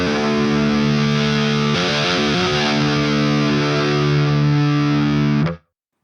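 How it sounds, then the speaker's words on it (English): A guitar played through an Audiority GrindStein distortion pedal on its bright setting gives a thick, buzzing, sustained chord, then a short burst of re-picked notes, and rings on before cutting off abruptly near the end. "That's the original sort of sound of the Grind Stein pedal"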